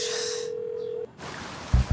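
A telephone ringback tone on a call, a single steady tone held for about a second before it cuts off, followed by quiet room noise and a couple of soft thumps.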